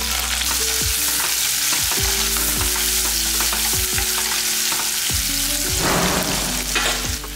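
About ten cloves of garlic and a handful of shallots sauté in a pan for a tamarind curry, a loud continuous sizzle with repeated scraping stirs of a spoon against the pan.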